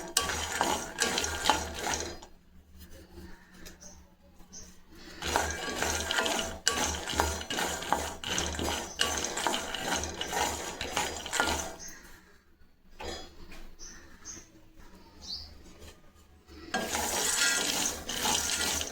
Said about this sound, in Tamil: இப்போ நம்ம வேர்க்கடலை வறுத்து எடுத்துக்கலாம்